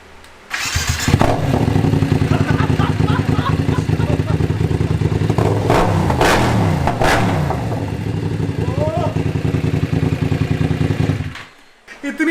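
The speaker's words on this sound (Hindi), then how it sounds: "एक बार बिना कैट के हम बाइक को स्टार्ट करने वाले हैं।" A BMW GS motorcycle fitted with a Dominator HP1 exhaust and decat pipe fires up and idles loudly and close, a dense steady rumble with a few revs, then cuts out near the end.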